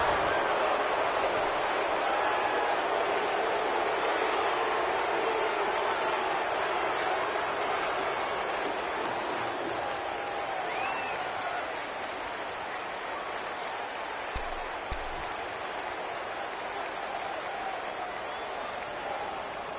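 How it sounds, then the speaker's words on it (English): A stadium crowd in a domed venue, from a PS4 football video game, keeps up a steady broad roar throughout, loud and continuous, with no clear breaks. "The crowd here in the Dome making things difficult."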